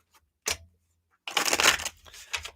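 Tarot cards shuffled by hand, with a brief riffle burst followed by a longer run of crisp, papery card flutters close to the listener.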